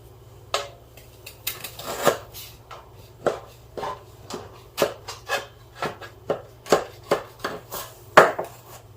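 A knife cutting a baked cake into pieces for rusk, with a steady series of sharp chopping taps on a board, close and distinct.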